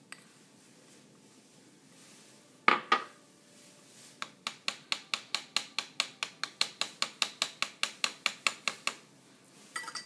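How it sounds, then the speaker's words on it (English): Chocolate brownie lipgloss mixture stirred and scooped in a small container, giving a fast, steady run of close, bright clinks and taps, with a couple of louder knocks before the rhythmic series begins. "I'm just going to stir it real quick and scoop that into this."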